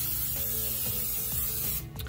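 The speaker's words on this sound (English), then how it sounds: "I put some foil on it and I just sprayed it with some oil so that it won't stick" Cooking oil sprays onto a foil-lined pan in one steady close hiss lasting nearly two seconds, then cuts off, followed by a few faint clicks.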